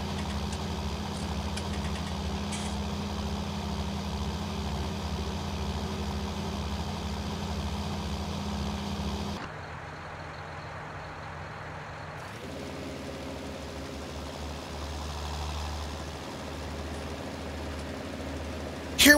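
John Deere 6800 tractor running in Farming Simulator 19: a steady engine hum with a low throb, dropping quieter midway as the view shifts, then returning to a fuller drone.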